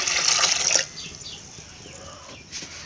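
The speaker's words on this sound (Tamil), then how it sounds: "ஃபஸ்ட்டு தண்ணி ஊற்றிக்கிங்க தட்டைப்பயிறு வேக வச்சிடலாம்" Water poured into a cooking pot for cowpeas in a home kitchen: a splashing, bright pour for under a second, then a quiet room with faint drips and a soft splash near the end.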